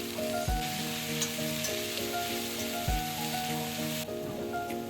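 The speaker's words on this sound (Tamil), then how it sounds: "கொத்தமல்லி ஒரு பிடி போட்டுப்போம் புதினா ஒரு பிடி போட்டுப்போம் இதெல்லாம் போட்டு நல்லா வதக்குங்க" Mint and coriander leaves sauté in hot oil for a mint thuvaiyal, giving a steady close sizzle with a couple of soft thuds as the leaves are tossed, and no voices.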